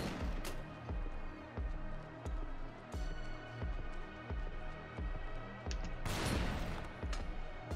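Shotgun blasts from an enemy in the brawler game Mother Russia Bleeds, a rapid run of punchy booms roughly twice a second. They sit over a dense, noisy game mix with a heavier crash near the end.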